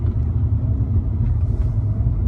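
A 2016 Volkswagen CC with a 2.0 TDI turbo diesel engine and 6-speed DSG gives a steady, deep rumble heard from inside the car, low and continuous without sharp rises in pitch.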